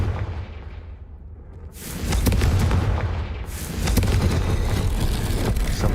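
A Confringo fire spell explodes in the video game Hogwarts Legacy as a loud rumbling boom that swells twice into a broad, sustained roar with crackling debris.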